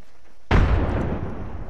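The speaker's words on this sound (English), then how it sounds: "Frag grenade sent." A frag grenade detonates in a video game, a single loud, close boom striking abruptly after a quiet stretch and then rumbling off in a long decaying tail.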